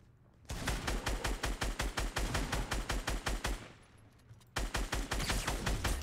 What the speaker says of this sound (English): What's this? Burst assault rifle? I like that.